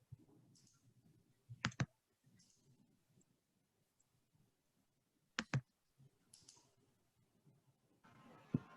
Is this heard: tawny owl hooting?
no